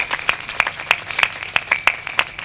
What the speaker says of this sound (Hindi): आप सब ताली बजा के स्वागत करिए